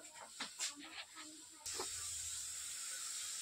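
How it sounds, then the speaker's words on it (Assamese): Fish curry with raw turmeric bubbling in a pot, a broad steady hiss of simmering that rises suddenly partway through and then holds, after a few soft scattered clatters and faint sounds near the start. "এতিয়া ভালদৰে উতলি থাকিবলৈ দিলোঁ"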